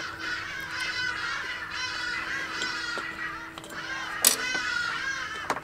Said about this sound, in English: As soon as we hit record, the birds go ape